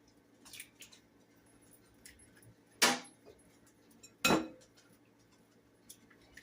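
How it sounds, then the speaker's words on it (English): Two sharp cracks of eggshells being broken for a cinnamon bun cheesecake bread pudding, spaced a second or so apart, close and fairly loud, with faint kitchen clatter around them and no talking. "I'm going to crack 4 eggs"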